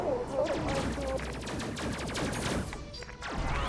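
Sustained rapid gunfire in the video game Space Crew, dense automatic bursts rattling continuously at close range.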